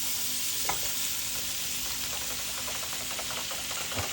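Chopsuey vegetables with cabbage being stir-fried in a pan, with continuous hissing sizzle and a few brief clatters of a utensil stirring, close and steady throughout.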